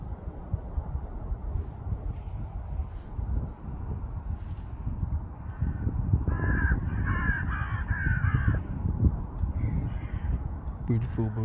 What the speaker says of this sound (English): Beautiful birds, man.